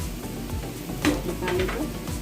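Coriander powder frying in a pan for aloo sabji, a soft sizzle close by with a couple of brief stirring scrapes partway through.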